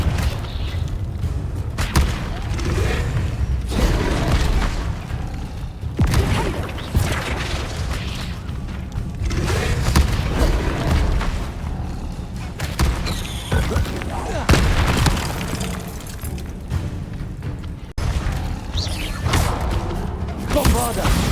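Bombarda and Confringo spell explosions from Hogwarts Legacy go off in rapid succession, a dense run of booms, thuds and crashing impacts over continuous game noise, loud and close throughout, with a voice shouting between the blasts.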